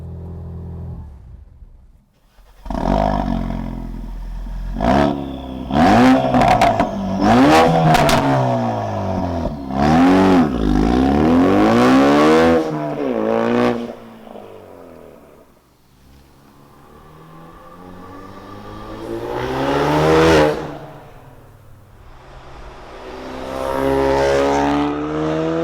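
A 2016-20 Ford Focus RS with an AWE Touring Edition cat-back exhaust drives past outside, its exhaust note rising and falling through several gear changes, loud as it nears and fading off between passes.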